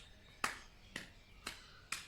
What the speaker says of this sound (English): you're just going to pick your leg up and clap under your leg